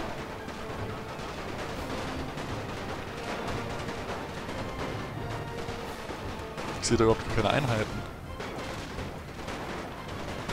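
Gunfire in the World War I strategy game NTW The Great War: a steady crackle of distant rifle shots rises into a louder flurry of volleys near the end, beneath someone speaking German.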